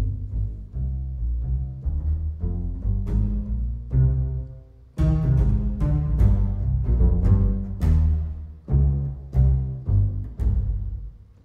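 Bass patch from the Balkan Ethnic Orchestra sample library by Strezov Sampling, playing deep, resonant plucked notes in a steady melodic line, each note ringing with reverb before the next, alone without voices.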